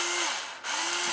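A drill bores through basswood: a high, whining hiss of the bit, dipping briefly in the middle as it slows or bites, then rising again, with a steady motor tone underneath.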